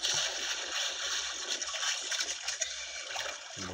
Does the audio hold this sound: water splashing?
yes